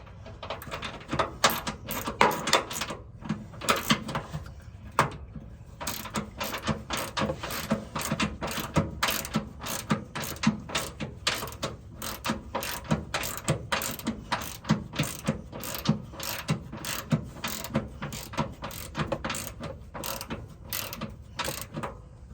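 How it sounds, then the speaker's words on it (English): A ratchet tightens an 18 mm socket on a Fox 2.0 rear shock bolt on a 2024 Ford F250, making rapid, continuous close clicking for about twenty seconds with brief pauses, and no one speaks. "Go ahead and tighten that 18 millimeter socket."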